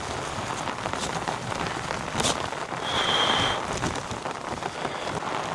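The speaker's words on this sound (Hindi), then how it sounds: "आप बारिश देखो चारों तरफ।" Heavy rain falls steadily on surfaces nearby on an Everest trek, a dense continuous patter with no voices.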